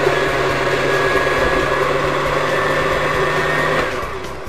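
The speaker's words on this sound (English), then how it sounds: "Here, I'm going to turn the blender." A kitchen blender runs steadily at high speed, churning a thick frozen margarita mix with a constant loud whirring drone and a faint whine, then the motor slows and the pitch drops toward the end.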